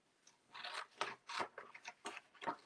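Scissors snip through paper in a quick series of crisp, close cuts, each one a short rasping crunch.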